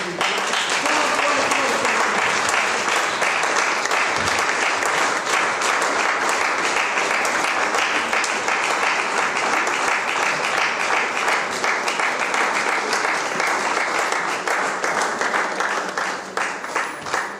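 A church congregation applauds steadily and loudly, a dense continuous wash of clapping that holds for most of the stretch before easing slightly at the end.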